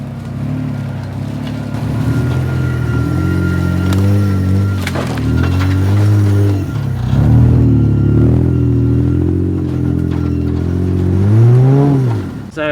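A Nissan Patrol's engine drones loud and steady as it climbs an off-road obstacle on the lost tracks around Chichester, with revs swelling and dipping and a sharp rise near the end.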